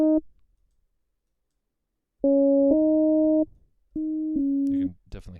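Synth tone run through Ableton's Auto Filter on a drive model, heard as short bursts of a buzzy held note that stop and restart, with brief speech toward the end.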